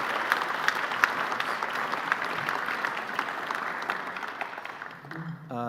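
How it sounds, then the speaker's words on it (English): Sustained applause from an audience at a Canadian Club of Toronto business luncheon, a steady close wash of many hands clapping that fades toward the end as a voice begins. "A round of applause and welcome."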